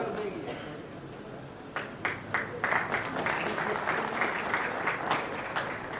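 An audience at a Hindi comic poetry gathering (kavi sammelan) in Takhatpur, Bilaspur claps, building from scattered claps into fuller applause with sharp individual hand strikes, moderately distant, with a voice speaking over it.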